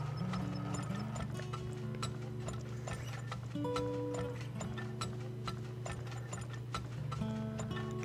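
Horse hooves clip-clop in the oil-drilling game Turmoil, a run of light, quick clacks over a steady mechanical whirring hum of gears and machinery, with no voices.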